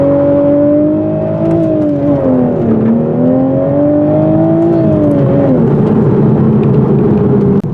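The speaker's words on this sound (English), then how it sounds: "There's one thing you can do with the manual transmission, a lot easier than automatic, and that's do a few burnouts." A 2023 Toyota Supra with a six-speed manual gearbox does tire burnouts, its engine droning loudly and steadily with the pitch wavering up and down as the revs rise and fall, very close.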